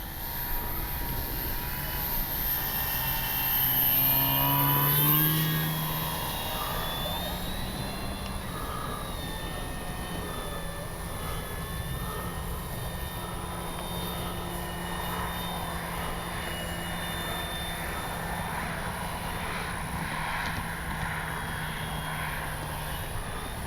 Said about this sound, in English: Nice low and slow pass with the flaps down